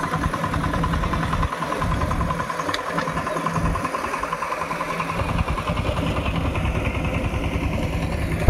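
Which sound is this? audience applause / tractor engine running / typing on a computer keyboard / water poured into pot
tractor engine running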